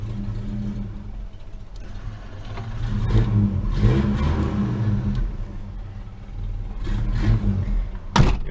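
A car engine with a recently replaced intake manifold gasket, at the start of a Chevrolet Omega Diamond, rumbles at idle and then revs up in several blips, the last one short and sharp, with no talk.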